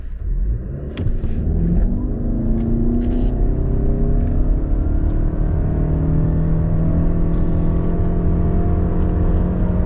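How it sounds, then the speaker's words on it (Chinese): A Lexus ES300h hybrid, with a 2.5-litre naturally aspirated engine, an electric motor and an ECVT, accelerates from standstill toward 100 km/h, its loud engine drone rising steadily in pitch over a constant rumble of road and wind noise. "下面先测下100公里加速"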